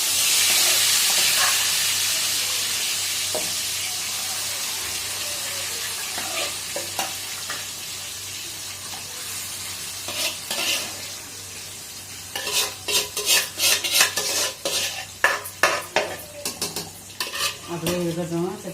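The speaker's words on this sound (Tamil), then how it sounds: "நல்லா வதக்கிடுங்க" Biryani ingredients sauté in a pan, a close continuous sizzle and steam hiss that settles quieter, then repeated spoon scrapes and clatters against the metal pan as the mixture is stirred, with no voices.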